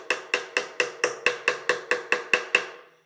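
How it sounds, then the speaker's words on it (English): Eleven light hammer taps drive parts into a circa-1900 parlor guitar under restoration, struck in a steady, evenly spaced rhythm, each a crisp close knock with a short ring, no talk. "give them a little tap with the hammer"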